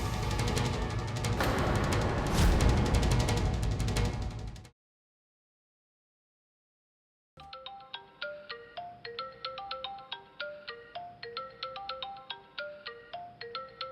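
A mobile phone left behind at home plays its ringtone, first a loud dense burst, then silence, then a bright repeating melodic ring pattern with no talk.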